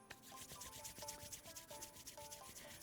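Palms rub briskly together in a steady back-and-forth during a tai chi session, soft and close, with faint musical tones sounding in the background.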